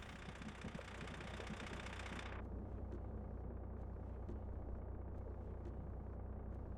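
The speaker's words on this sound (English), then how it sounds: "I'll just turn on the engine so we could turn the vehicle around." Vehicle engine idling in the storm-chasing video game Outbrk, a steady low mechanical rumble running throughout at moderate level with a broad hiss fading out early on.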